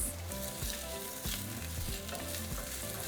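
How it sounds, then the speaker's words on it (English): Sliced onion fries in hot oil in a pan for a red chilaquiles dish, a steady close sizzle with soft stirring scrapes and faint music underneath. "Once our oil is hot, we're going to throw in our sliced onion. And we're going to fry them for a couple minutes."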